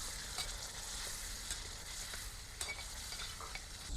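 A tomato and potato masala sizzles in a pan while a spoon stirs it, with quiet steady frying and occasional scraping clicks, and no voices.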